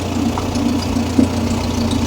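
A VW car engine idles while warming up, a steady close mechanical hum with a faint rhythmic pulse and one brief louder knock partway through, with no talking.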